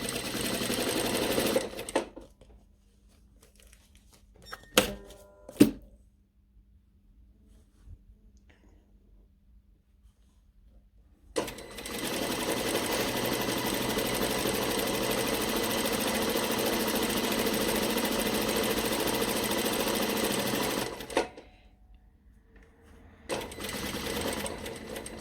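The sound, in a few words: sewing machine stitching a fabric ruffle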